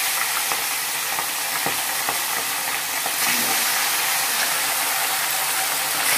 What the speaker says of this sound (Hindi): आप देख सकते हैं तेल गरम हो गई है। अब हम लोग वो नमक हल्दी लगा हुआ जो फिश है